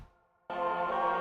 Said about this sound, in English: which is another Mellotron choir,